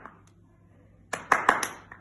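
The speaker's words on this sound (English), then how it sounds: "How many claps can you do?" During a school PE catching-skills exercise, a quiet room gives way to a short burst of four or five quick, crisp hand claps near the end, close and moderately loud.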